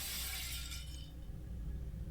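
A mirror shatters in a horror video game, a loud, bright burst of breaking glass at the start that fades into a low rumbling background.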